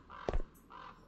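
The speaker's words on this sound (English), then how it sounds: "Is that a crow?" A crow cawing in the horror video game The Black Within, set in a quiet neighborhood: one close, harsh caw over a soft ambient hum, with a faint second call trailing after.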